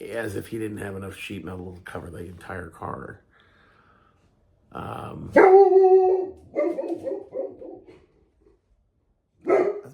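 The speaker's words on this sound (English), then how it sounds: "That's my dog." A dog barks in a few short, loud bursts close by, following a man's speech and separated by quiet gaps.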